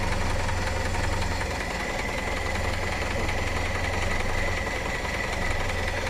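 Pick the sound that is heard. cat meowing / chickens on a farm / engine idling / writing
engine idling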